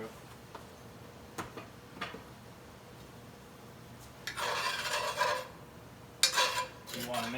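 Black pepper and seasonings being stirred together in a pan on the stove: faint ticks at first, then bursts of scraping and rubbing from the utensil against the pan, close and moderately loud.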